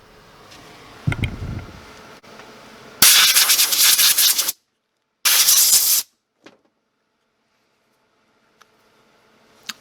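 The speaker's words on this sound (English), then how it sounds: "get a air compressor or your can of air and just blow out your clippers here" Compressed air blows hair out of a worn hair clipper in two sharp bursts of loud hissing, each lasting about a second or so, separated by a short pause and followed by faint clicks of handling.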